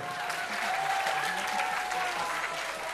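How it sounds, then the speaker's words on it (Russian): Audience applause for the host at an Abkhazian 4G/LTE presentation event: a dense, steady wash of clapping from a large crowd lasts throughout, with a voice faintly audible beneath it. "Аплодисменты бессменному ведущему."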